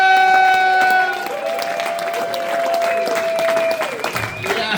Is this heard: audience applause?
yes